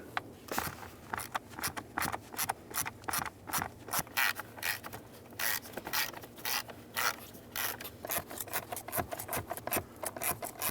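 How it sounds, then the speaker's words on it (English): An 8mm socket on a hand ratchet backs out the blower motor bolts on a 2002-06 Toyota Camry, a fast, faint, continuous clicking in uneven bursts heard up close. "With an 8mm socket, go ahead and remove your 3 bolts."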